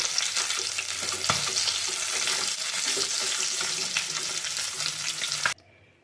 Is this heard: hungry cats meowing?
no